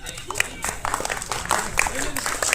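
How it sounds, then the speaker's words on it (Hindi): An audience at an Eid Milad-un-Nabi naat recital applauds a child reciter, a dense patter of many hands clapping under chatter and voices. "बच्चे की हौसला अफजाई के लिए आप लोग तालियां बजाएं।"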